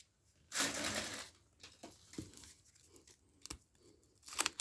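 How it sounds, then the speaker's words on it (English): Stickers peeled off repacked trading card wax packs, giving a loud sustained tearing rasp near the start followed by several shorter, quieter crinkly peels and snaps, close up with no talking. "Get rid of these stickers."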